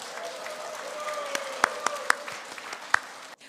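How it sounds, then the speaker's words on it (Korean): Audience applause at the opening ceremony of the 2025 Korea Photo Festival, steady clapping from a crowd with a few sharper individual claps, ending abruptly. "우리 유수찬 이사장님에서 박수 한번 부탁드리겠습니다."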